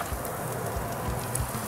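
Mackerel fish frying in hot oil gives a steady, crackling sizzle with soft spitting pops, close and continuous.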